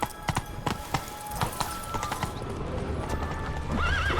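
A horse in The Witcher 3: Blood and Wine gallops with quick, close clip-clopping hoofbeats, then lets out a loud neigh near the end.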